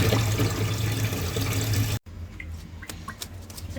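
Running water pours steadily while hilsa fish is set to soak in a home kitchen, a loud continuous rush that cuts off abruptly midway, followed by quieter trickling and faint drips.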